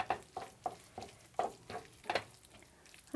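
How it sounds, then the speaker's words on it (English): A spoon stirs melting cheese into a courgette pizza sauce in a pan, making soft, rhythmic scraping swishes about every third of a second over a faint sizzle, close up and quiet. "just keep stirring that until your cheese has melted down and everything is mixed together nicely"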